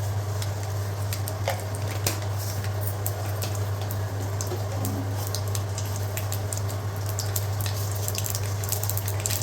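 Mustard seeds sizzling in hot oil for a mango and onion curry, a steady close frying hiss with faint scattered pops over a constant low hum, no voices.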